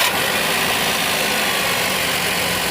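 A Maruti Suzuki WagonR petrol engine, with a cylinder misfire on CNG, idles close by in a steady, loud, continuous rumble with a dense, unbroken hiss, and no voices over it.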